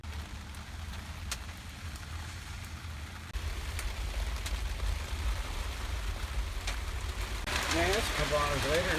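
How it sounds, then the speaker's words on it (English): Steady, heavy rain hisses continuously, growing denser and louder partway through, with a few brief drips and knocks standing out near the microphone. "Man, it's a couple hours later, this rain is crazy."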